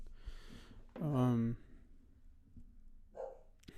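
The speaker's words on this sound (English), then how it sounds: "my dogs went crazy" Dogs in a house bark and yip in short bursts, one strong tonal bark standing out above faint background noise, with quieter yelps after a pause.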